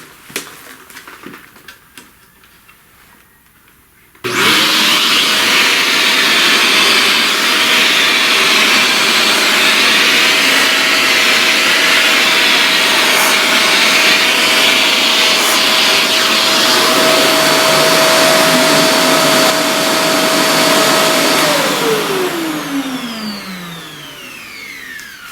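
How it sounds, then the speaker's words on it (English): Loud vacuum cleaner sucking up eraser crumbs during pastel drawing, switching on abruptly after a few quiet seconds, then a steady whining roar with a constant motor tone that winds down in pitch as it shuts off near the end. "let me vacuum all this eraser stuff"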